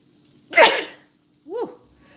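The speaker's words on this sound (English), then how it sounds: "gotta sneeze" One sharp, loud human sneeze bursts out close by, followed a second later by a shorter, softer vocal exhale or second sneeze, with quiet room tone between.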